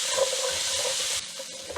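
Chopped onions frying and sizzling in a pan during a cooking demonstration in Uganda, a steady close hiss that drops in level partway through, with light stirring scrapes and no talking.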